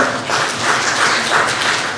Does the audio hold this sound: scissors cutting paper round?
no